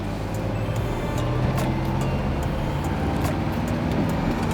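A camper van drives along a skinny, winding road through a pass in the Peak District hills, its engine and road noise a steady, loud rumble throughout.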